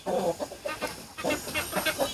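Ornamental chickens cluck on a farm during a summer heat wave. Short, soft, repeated clucks from several birds come at moderate distance, with no talking.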